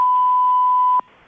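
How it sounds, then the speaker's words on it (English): A single steady answering machine beep, loud and alone, holding for about a second before cutting off cleanly into silence. "Please leave a message after the beep."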